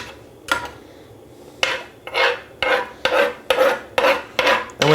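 A spatula scrapes eggs around a frying pan greased with bacon fat, in a home kitchen: one scrape, a pause, then a steady run of about seven rasping strokes, close and clear with no talk.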